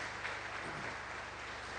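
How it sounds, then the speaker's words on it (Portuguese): A church congregation applauds for Jesus during a family worship meeting, a steady dense wash of clapping from many hands, moderately loud and even throughout, with no speech over it. "dê uma forte salva de palmas para o Senhor Jesus"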